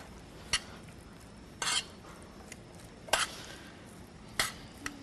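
Salad ingredients being mixed with mayonnaise in a bowl on a cooking show, heard as four separate scraping, clinking stirs spread across a quiet background with no talking.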